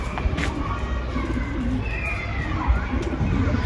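Isbir flight pigeons cooing in a pen, low soft repeated coos close by over a rough background of rustling and movement.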